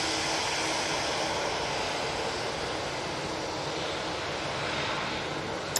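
A TUI Boeing 737-800 jet takes off from Manchester Airport bound for Corfu, a steady broadband engine roar holding at an even, moderately loud level throughout.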